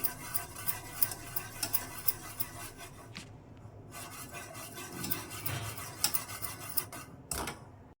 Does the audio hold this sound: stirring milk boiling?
yes